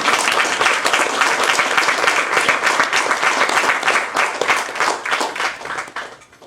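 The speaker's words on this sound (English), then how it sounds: "A big clap." An audience at a spiritual gathering claps after a talk, a steady, loud wash of many hands that thins and tapers off in the final second.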